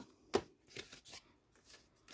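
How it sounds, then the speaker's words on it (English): A corner punch snipping through the corner of a paper file folder, one sharp crisp cut followed by a few fainter soft paper rustles and clicks, quiet and close. "I'm gonna grab my corner punch and cut this corner"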